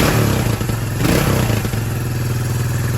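A restored 1980 Kawasaki KZ250 motorcycle engine idles close by with a rapid, even chugging beat and a clattery mechanical edge, briefly picking up in the middle before settling back to a steady idle.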